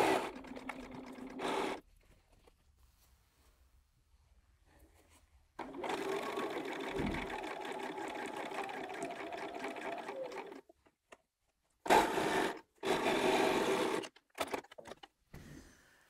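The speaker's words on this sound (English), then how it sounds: "back to the machine and I'm going to sew all the way down." A sewing machine stitching a table runner seam runs in several bursts: a brief run, a long steady whirring stretch, then short stop-start spurts with quiet pauses between, close by.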